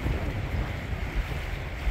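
Strong wind gusts buffet the microphone over choppy sea water at Long Beach Pier on a cold, windy day, with a constant low rumble and a hiss of waves.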